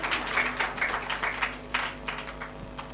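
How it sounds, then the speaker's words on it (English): An audience at a children's climate summit applauds a 12-year-old girl poet, a steady patter of clapping heard from some distance, moderately quiet, lasting about three seconds. "Let's give her a round of applause."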